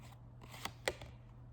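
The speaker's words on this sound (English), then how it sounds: "So I am gonna shuffle the deck and pull a card" Tarot cards being shuffled, a few soft papery riffs and taps close by in a quiet room, with no talking.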